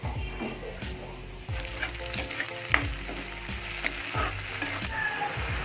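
Baguio beans (green beans) cooking in a pan, a steady sizzle broken by repeated scraping stirs of a utensil and occasional pops.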